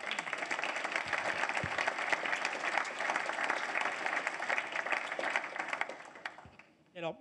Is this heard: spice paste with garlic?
no